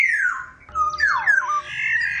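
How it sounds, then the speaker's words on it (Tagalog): A colorful long pink-beaked bird calls loudly at a window in Capalonga, Camarines Norte, a harsh squawking series of rising and falling cries, close and clear. "Huni kasi ito ng isang ibon."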